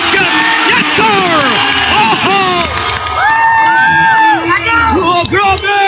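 Loud, sustained crowd shouting and cheering at a championship basketball game, with many overlapping voices, whoops and rising yells filling the arena continuously.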